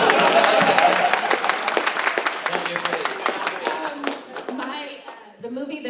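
Audience clapping at a Mighty Morphin' Power Rangers fan convention panel, a burst of applause that gradually thins and fades, with voices talking over it near the end.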